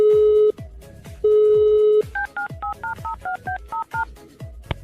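Mobile phone dialing tones: two long steady beeps followed by a quick run of about a dozen short keypad tones, loud and close with no talk.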